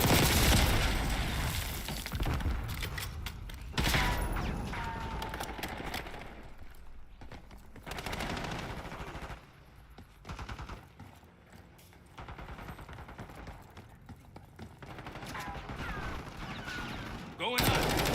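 Video game gunfire rattles in rapid bursts and fusillades, loud and close, with short pauses between volleys and a player talking intermittently over the shooting.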